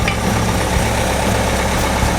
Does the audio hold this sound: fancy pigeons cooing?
no